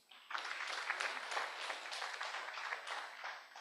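An audience at a national stakeholders' dialogue on adolescent health breaks into a round of applause, a short burst of steady, fairly close clapping that swells quickly and holds for a few seconds.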